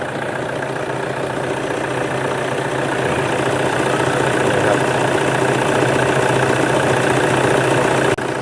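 Toyota Sport Rider 2.5 pickup engine idling smoothly and close up, a continuous even rumble that holds steady throughout with no talking.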